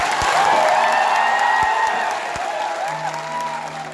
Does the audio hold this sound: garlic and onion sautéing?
no